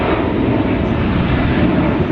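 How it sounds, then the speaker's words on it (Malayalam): A steady, loud roar of an airplane engine, continuous and broad, as an aircraft passes close overhead. "ഇവിടെ ഫ്ലൈറ്റ് അടുത്ത ഫ്ലൈറ്റ് പോകുന്നുണ്ട്"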